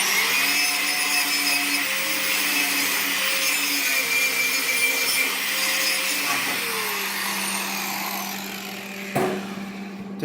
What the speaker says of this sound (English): I'll just use the wire wheel